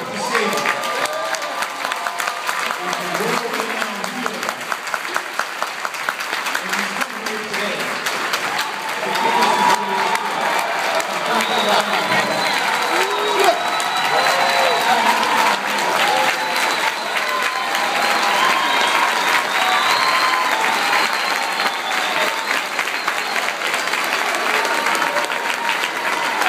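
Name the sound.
audience applause and cheering for a speaker's introduction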